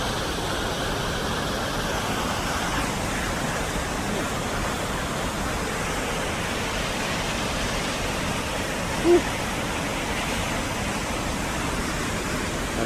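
A river rushes through a canyon gorge, a steady, loud broadband roar of churning water that holds constant throughout with no other sound rising above it.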